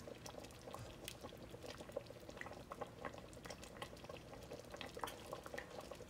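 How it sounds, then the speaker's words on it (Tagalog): Quiet, steady bubbling and simmering of thick, creamy mushroom soup in a pot, a continuous low gurgle with small pops, no voices. "Kumukulo na"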